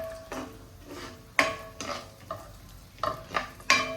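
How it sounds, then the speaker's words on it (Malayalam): Cashew nuts frying in a pan for semiya payasam, with a soft sizzle beneath repeated stirring and scraping of a utensil against the pan, in close, irregular strokes. "ഇനി കാഷ്നട്ട് നമുക്ക് ഫ്രൈ ചെയ്തിട്ടെടുക്കാം കേട്ടോ."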